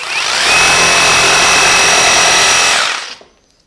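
A Bosch GST 18V-155 BC cordless jigsaw with a new blade cuts through 18 mm thick oak, a loud, close, steady high buzzing whine for about three seconds before winding down to silence.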